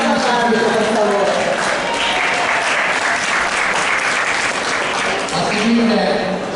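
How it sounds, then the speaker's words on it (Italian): Spectators at an amateur boxing semifinal in Milan applaud the referee, a loud, dense burst of clapping from the crowd with voices mixed in throughout. "Signor Fiorentino, un applauso all'arbitro per favore"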